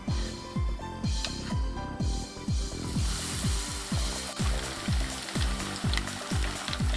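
Okra tempura frying in oil, with a continuous crackling sizzle and a regular series of low rhythmic knocks throughout, close and steady, no voices.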